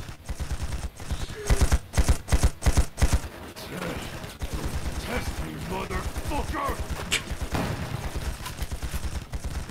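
Dense volleys of gunfire from many shooters in the video game Ai: The Somnium Files, with rapid bursts clustered early and steady overlapping shots continuing throughout.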